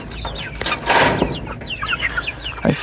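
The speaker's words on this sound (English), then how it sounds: "I think that is a rooster." A golden-feathered rooster in a dim chicken coop clucks in short, close bursts, with scattered chirps and a brief flutter of movement, loud and alone without talk.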